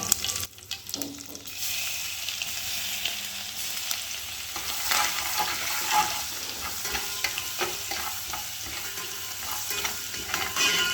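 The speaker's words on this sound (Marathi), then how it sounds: "हिंग, कढीपत्ता, आणि जो आपला मसाला केला होता तो मसाला छान परतून घ्यायचा." Masala of red chilli, garlic and cumin sautés with asafoetida and curry leaves in a pan, a broad steady sizzle with irregular stirring scrapes and a brief crackling burst near the start, moderately quiet.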